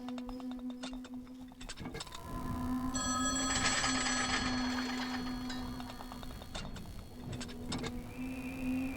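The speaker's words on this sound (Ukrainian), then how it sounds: "Де телефон дзвонить?" A telephone rings in a horror video game, its repeated electronic trills sounding over a steady low hum and scattered game noises, with no talking.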